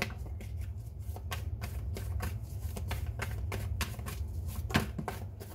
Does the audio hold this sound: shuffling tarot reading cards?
yes